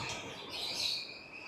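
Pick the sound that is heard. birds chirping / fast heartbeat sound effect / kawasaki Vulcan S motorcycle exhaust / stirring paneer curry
birds chirping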